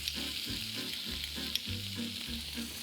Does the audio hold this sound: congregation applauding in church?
no